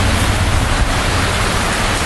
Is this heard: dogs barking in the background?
no